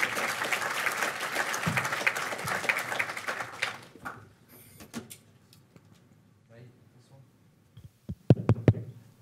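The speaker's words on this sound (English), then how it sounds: "Give more round of applause." Audience applause fills a conference hall at a hackathon launch, dense clapping for about four seconds before fading into scattered claps, shuffling and a few sharp knocks as someone comes up on stage.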